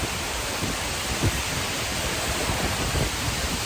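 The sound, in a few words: waterfall, heard from right behind it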